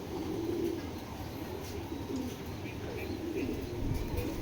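A Belgian red fox male racing pigeon coos in low, steady murmuring phrases from close by, with no voices over it.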